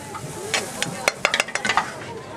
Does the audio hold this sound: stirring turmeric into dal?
yes